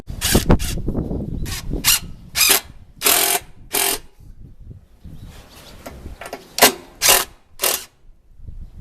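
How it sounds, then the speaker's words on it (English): Screw being driven into a wooden window fitting, a series of short bursts of scraping and squeaking turns with pauses between them, close and fairly loud. "I just need to screw it in now."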